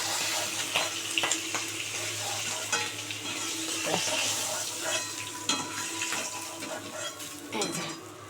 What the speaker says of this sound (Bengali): সব তোলা হয়ে গেল মাছ ভাজা হয়ে গেছে